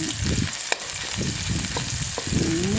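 Red curry paste frying in a hot pan for a pork belly stir-fry, a dense crackling sizzle with stirring scrapes and one sharp clack of a utensil against the pan, close and steady without talk.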